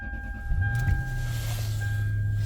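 A 2003 Lexus LS 430 engine cranks and catches, settling quickly into a steady low idle hum with a faint high whine above, nearby and continuous.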